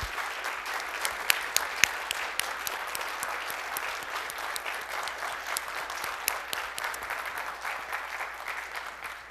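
A Python conference audience gives a sustained round of applause for its sponsors, a fairly quiet and steady patter of many hands with sharper individual claps standing out.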